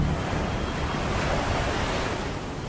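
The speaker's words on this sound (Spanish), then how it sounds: "Vimos como el agua giraba y giraba sin cesar, haciendo un ruido atronador al romper en las rocas." Swirling whirlpool water crashes against rocks in a narrow sea strait, a loud, continuous roaring surge of surf and wind-like rush that holds steady throughout with no voices.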